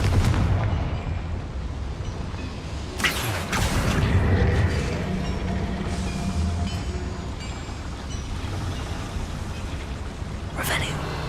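Confringo fire spell blasts in Hogwarts Legacy, a couple of sharp explosive bursts standing out over a continuous rumbling game soundscape, with talking mixed in.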